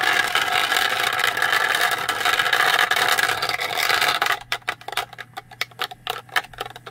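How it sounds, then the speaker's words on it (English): A magnetic lab mixer's stir bar knocks against a ball bearing in paint, first under a steady whirring hum, then as rapid, irregular ticking clicks close by. "Oh, it's hitting the ball bearing."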